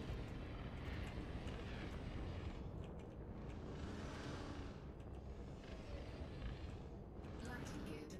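Spaceship thrusters roaring while landing on a pad in Elite Dangerous, a steady loud rushing engine noise that swells and eases slightly throughout.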